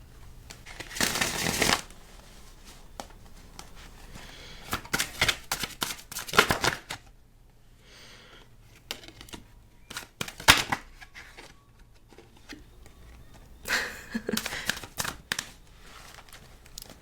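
Tarot cards are shuffled and drawn at close range in a quiet room, giving bursts of papery riffling and flicking separated by short pauses and soft handling noises.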